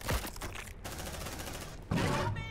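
Rapid bursts of automatic gunfire from a squad of marines in the sci-fi game Aliens Dark Descent, dense and continuous, with a sharp fresh volley near the end.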